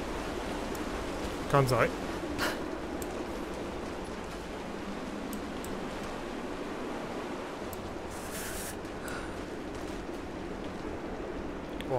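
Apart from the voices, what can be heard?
water below in Rise of the Tomb Raider video game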